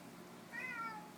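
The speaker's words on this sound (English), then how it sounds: "A kitty cat." A cat gives one drawn-out meow with a rising then falling pitch, close and clear over faint room noise, after a short quiet pause.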